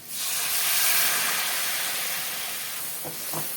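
Hot water poured into a pan of fried spice masala and potatoes for a Bengali bata fish curry sets off a loud, steady steam hiss and sizzle that slowly fades, followed near the end by a couple of soft utensil knocks.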